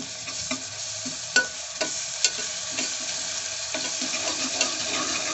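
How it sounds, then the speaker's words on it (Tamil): Ginger garlic paste being stirred in a hot frying pan while making tomato rice, with steady sizzling under scattered sharp scrapes and taps of a spoon against the pan, close and alone. "நல்லா கலக்கி விட்டாச்சு"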